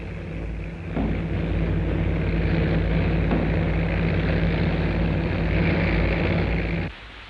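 Boeing B-29 Superfortress bombers, some damaged, landing at Iwo Jima: a loud, steady low engine roar and rumble that swells in after the first second and holds before cutting off near the end.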